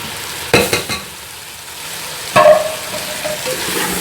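Chicken and green beans fry in a pot with a continuous sizzle, while two sharp stirring bursts come near the start and the middle, and no one speaks.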